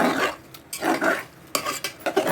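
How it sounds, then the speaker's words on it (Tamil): Chicken pieces being sautéed in a pan, with scraping and stirring strokes in irregular bursts and a faint sizzle underneath, fairly close. "இந்த சிக்கன் எடுத்து வச்சுருக்கேன், ஒரே சதை பீஸு அதை போட்டுக்கோங்க. இதை போட்டு வதக்கிட்டு"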